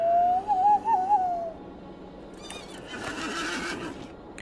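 A horse in the video game Lord of the Rings Online gives a single clear, wavering neigh, followed by quieter rustling and faint in-game ambience.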